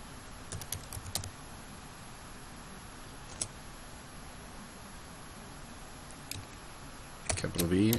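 Computer keyboard being typed on at a desk while entering a command, a few soft scattered key clicks over faint steady hiss, then a brief louder burst of handling noise at the end.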